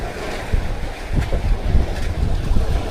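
Steady northerly wind buffeting over the open Pacific from a tuna fishing boat, with low rumbling gusts and wave wash, loud and continuous throughout.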